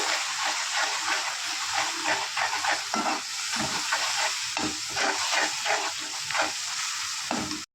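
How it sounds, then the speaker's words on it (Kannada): Onion puree masala fries and sizzles in oil for a fish curry, a steady crackling hiss broken by repeated scraping stir strokes, close and continuous. "ಈರುಳ್ಳಿ ಪ್ಯೂರಿನ ಹಾಕ್ಕೊಳ್ಳೋಣ ಸೊ ಈ ಮಸಾಲೆ ಪೂರ್ತಿ ಎಣ್ಣೆ ಬಿಡೋವರೆಗೂ ನಾವು ಚೆನ್ನಾಗಿ ಫ್ರೈ ಮಾಡ್ಕೋಬೇಕು"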